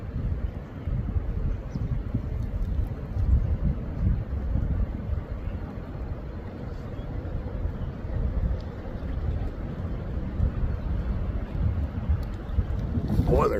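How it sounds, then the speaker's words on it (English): Wind blowing outdoors near a lake with loons, a continuous low rumbling buffet across the microphone that stays steady and fairly loud throughout. "This wind too."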